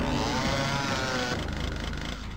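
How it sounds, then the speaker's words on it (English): Doom (1993) chainsaw weapon running continuously, a steady buzzing engine drone with a coarse, rattling grind throughout, fairly loud and alone. "Okay, I got the chainsaw"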